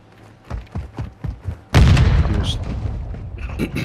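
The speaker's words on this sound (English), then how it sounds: "I'm getting grenades thrown at me" Grenade explosions in the DMZ video game: a string of soft thumping footsteps or shots, then one loud, close blast that rings out into a long decaying rumble and debris crackle.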